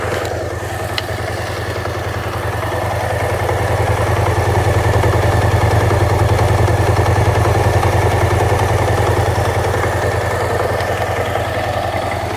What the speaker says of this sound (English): Let's hear the sound of the Akrapovic.